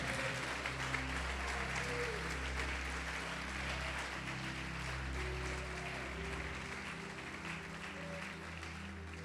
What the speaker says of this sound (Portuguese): Pode aplaudi-lo, pode dar glória, pode dar glória.